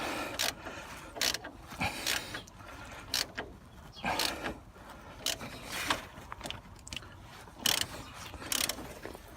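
Bolts are tightened by hand on the front suspension strut of a Renault Master van, giving irregular bursts of ratcheting, clicking metal mechanism sounds spread through the stretch, close up with no talking.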